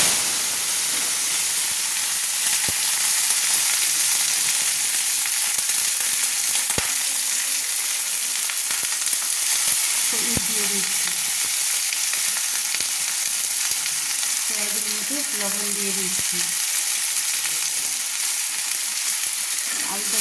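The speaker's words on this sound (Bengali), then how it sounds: "তেলটা আমার গরম হয়ে গেছে তো আমি কেটে রাখা আলুর টুকরোগুলোকে কড়াইতে দিয়ে দিচ্ছি" Potato pieces fry in hot oil in a wok, giving a steady, loud sizzle and hiss throughout, with occasional stirring clatters and faint low sounds in the background.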